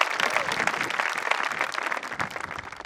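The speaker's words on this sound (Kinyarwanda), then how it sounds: "Mukomere Imana amashyi." An audience applauds steadily for about three seconds: a dense, continuous patter of many hands clapping at a gathering, with a faint voice underneath.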